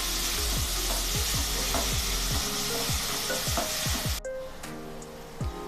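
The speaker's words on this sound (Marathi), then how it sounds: "आता आपल्याला हा कांदा सोनेरी रंगावरती परतून घ्यायचा आहे" Finely chopped onion sizzles and fries in a pan for Maharashtrian-style mutton curry, a loud steady crackle with repeated stirring scrapes, then the sizzle drops abruptly to a quieter simmer near the end.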